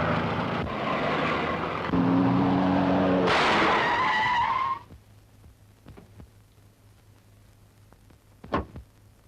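A car screeches as it skids with tires squealing after a tire bursts, the loud engine and squeal rising then cutting off abruptly. A few faint knocks and a sharp thud follow in the quieter aftermath.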